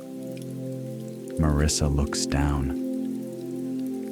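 Steady rain falls on a surface outside a cozy bakery, a soft continuous hiss running throughout while a voice briefly speaks in the middle.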